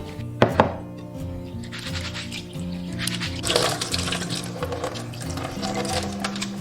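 Soaked glutinous rice being rinsed and swished by hand in water, with a steady watery splashing and sloshing close by, a couple of sharper knocks near the start, and no talking.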